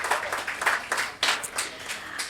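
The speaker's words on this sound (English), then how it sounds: "Round of applause for our guests, everyone." A studio audience gives a round of applause for guests on a mining careers show, a short burst of bunched clapping in several uneven waves that fades after a couple of seconds.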